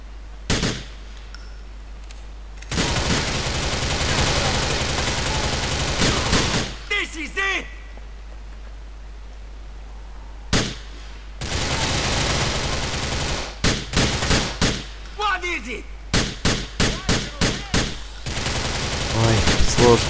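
Bursts of rapid automatic gunfire and single shots from enemies firing blind out of cover in Grand Theft Auto IV, loud and dense in stretches, separated by brief quieter gaps, with a voice talking in between.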